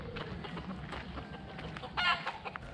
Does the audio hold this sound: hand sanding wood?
no